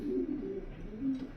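A pintail racing pigeon gives a soft, low cooing call close by, two or three throaty pulses running together in a brief murmur.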